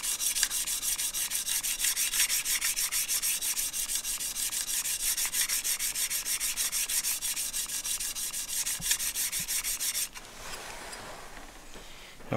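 A WoodRiver jack plane blade is rubbed back and forth on the back side of a sharpening stone, making a close, steady rasping scrape in quick, even strokes that stops near the end.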